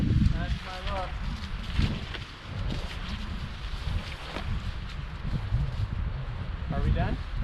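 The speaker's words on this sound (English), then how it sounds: "The worst wind gust we've had all day, and it's right now." A strong wind gust at a forest hammock campsite in Jackson-Washington State Forest: a steady, loud roar of wind noise through the trees, buffeting the microphone throughout, with a person's voice speaking over it.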